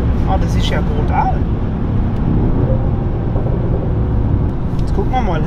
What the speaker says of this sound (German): Hört sich sportlich an, so sollte sich eigentlich jeder AMG anhören.